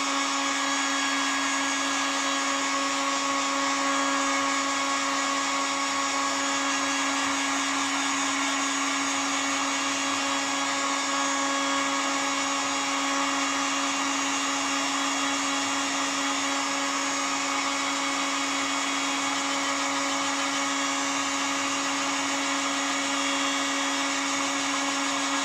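Heat gun blowing on wet Doculam tissue covering the tail surfaces of a Nieuport 24 model aircraft: a loud, unbroken fan whine with a steady tonal hum, close and alone for the whole stretch.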